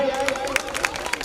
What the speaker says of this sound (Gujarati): ચાલો બધા માટે એકવાર તાળીઓ થઈ જાય.